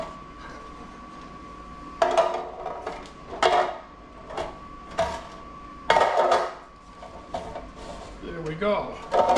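Thick metal bread pans knocked and clattered as baked sandwich loaves are dumped out onto a cooling rack, several sharp close scrapes and clunks in irregular bursts, with a person talking quietly between them.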